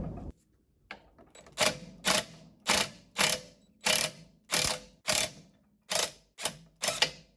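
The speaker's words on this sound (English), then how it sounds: "now I'm going to use my Craftsman impact" Craftsman impact wrench hammering at a seized, heated outdrive bearing carrier in a boat lower unit, about ten sharp rattling bursts in a steady rhythm, close and loud with no talking.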